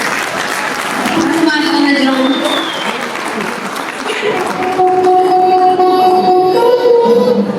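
Audience applause fills a university's third-anniversary jubilee ceremony, steady and fairly loud throughout, with a drawn-out tonal sound like music or a horn rising over the clapping in the second half and voices faintly underneath.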